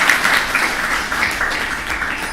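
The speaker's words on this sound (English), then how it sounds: "I think we need to clap a man for" Audience clapping fills a hall, a continuous, fairly loud wash of many hands with no pauses.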